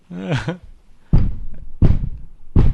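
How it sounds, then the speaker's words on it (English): A forehead thumps on a desk three times, each a loud, close, low thud with a sharp onset, after a brief voiced sound at the start. "So, me banging my forehead."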